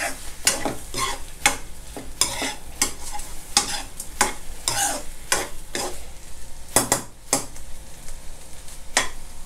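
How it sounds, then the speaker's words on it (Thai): Shrimp stir-fried with salted egg in a pan, sizzling steadily while a utensil scrapes and stirs in repeated sharp strokes, close and fairly loud, with no talking. "ผัดให้ไข่เค็มเขาสุกสักนิดนึงนะครับ"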